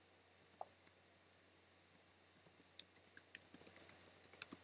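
Quiet clicks of typing on a computer keyboard, a few scattered keystrokes at first and then a faster irregular burst of taps toward the end, close and soft with no talking.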